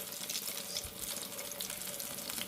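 Nei methi fish frying in oil in a kadai, a steady bright crackling sizzle with scattered pops, close and continuous without pause.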